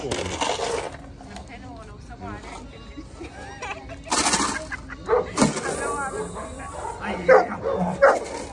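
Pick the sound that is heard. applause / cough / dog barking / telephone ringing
dog barking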